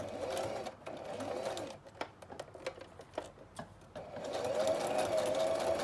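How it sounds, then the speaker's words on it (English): A sewing machine runs stitching down the middle of a strip of paper to make a ruffle, a fast steady whir broken by a stretch of separate clicking stitches before the motor speeds up again. "start sewing down the middle of your piece of paper"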